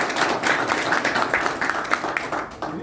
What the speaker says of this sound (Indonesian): tepuk tangan untuk anak semua